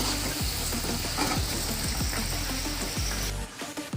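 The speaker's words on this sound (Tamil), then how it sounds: "எண்ணெய் காஞ்சிச்சு. இப்போ வடையெல்லாம் போட்டுடலாம்." Tea-shop masala vadai, lentil fritters, frying in hot oil, a loud continuous bubbling sizzle with a few soft scraping stirs, quieting abruptly just before the end.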